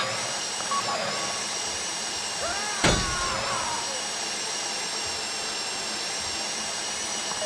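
A drill boring into a deposit box in the video game GTA V makes a steady mechanical whir throughout, with a short sharp clank near the middle and faint tonal beeps over the constant hum.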